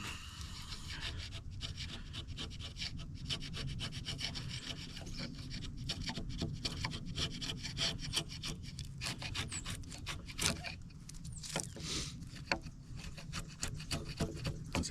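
A long slick chisel paring round log joinery, a close, steady run of dry rasping wood shavings and scraping strokes, dense and rhythmic with brief louder cuts and occasional pauses between passes.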